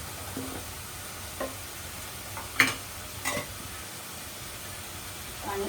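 Garlic paste dropped into a hot tempering of oil, a soft steady sizzle with a few scattered clicks and a brief spatter burst midway, quiet and close.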